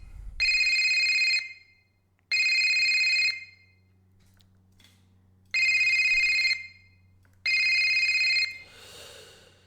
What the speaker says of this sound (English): I want to do a fun phone ring today.